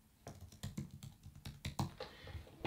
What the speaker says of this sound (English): then just start typing champion.